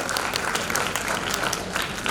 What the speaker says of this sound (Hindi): डॉक्टर मोहन यादव जी के लिए जोरदार तालियों से स्वागत करें